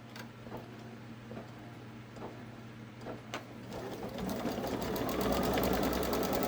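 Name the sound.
Babylock Solaris Vision embroidery machine stitching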